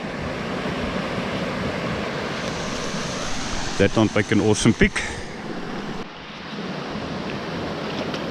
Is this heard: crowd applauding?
no